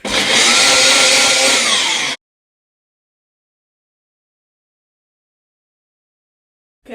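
A blender mixing a Mars bar milkshake roars loudly at close range for about two seconds, then cuts off abruptly into silence.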